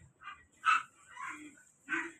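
A two-month-old puppy gives short yips and barks in a few bursts, close and fairly quiet, with pauses between each call.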